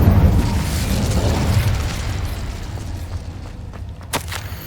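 In the video game Hogwarts Legacy, a cast Incendio fire spell bursts as a loud whooshing roar of flame that slowly tapers into crackling, with a sharp pop near the end.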